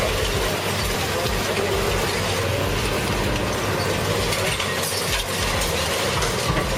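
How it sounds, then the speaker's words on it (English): A Hamel VB 950DK car shredder at a car expo grinds and crushes old cars, a loud, dense, continuous mechanical roar with ratcheting, clanking metal textures and a heavy low drone. "the machine crushes old cars in an instant. The sound of tearing metal echoes loudly"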